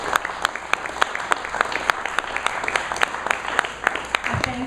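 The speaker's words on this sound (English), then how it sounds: "Big round of applause to all of them." Audience applause for a panel of speakers at a veterans' business event, with steady, evenly paced clapping from a modest crowd throughout, heard fairly close.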